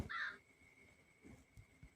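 A crow caws once, loud and close, in the Granny farm horror video game, followed by faint low thumps and shuffling with no talk.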